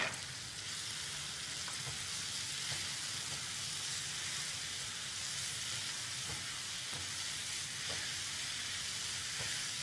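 Daal mash masala roasts slowly in a pan, a faint even sizzle continuing for about ten seconds with a few soft stirring clicks and no voices.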